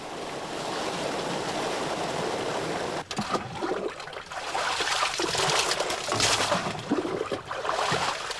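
A stream of water gushes from a channel in La Caldera de Taburiente, a close, loud rushing flow that surges and splashes unevenly, with a brief dip then stronger bursts.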